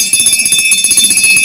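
An old electric bell at an energy museum rings in a continuous rapid metallic clatter, loud, close and alone, with bright sustained tones throughout.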